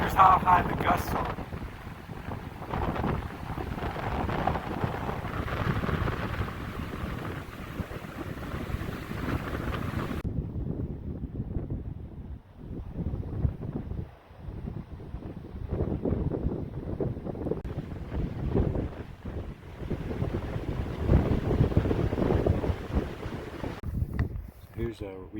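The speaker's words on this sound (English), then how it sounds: "I'm right on the lake, but it's super windy right now." Strong gusty wind at a lakeside backpacking camp in Yellowstone's Thorofare, a rough, rumbling roar buffeting the microphone in waves, loud and continuous with a calmer stretch midway before rising again.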